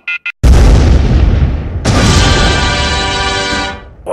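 A Cob Cannon fires in a Plants vs. Zombies game with one loud, booming explosion. It follows a couple of short clicks, and a second, bright crashing burst rings out and fades away.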